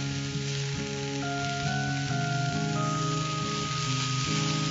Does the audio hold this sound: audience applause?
no